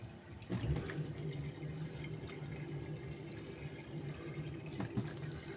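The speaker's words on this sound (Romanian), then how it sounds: "Dar eu pun cu asta mare și acum punem apă." Water pours steadily into a bowl of pretzel dough mixture, a continuous close splashing trickle with a few louder gushes, heard alone without talk.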